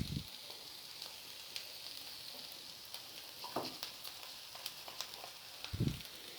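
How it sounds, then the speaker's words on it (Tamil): Capsicum frying in a pan as masala is mixed in, giving a quiet, continuous sizzling hiss broken by three soft scraping stirs near the start, the middle and the end. "மசாலாவையும் சேர்த்து நல்லா மிக்ஸ் பண்ணிடுவோம்."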